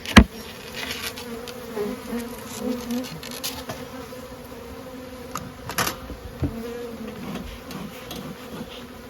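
Honey bees buzz steadily at close range at a hive, a dense droning hum with individual insects passing near, plus a few soft knocks and clicks.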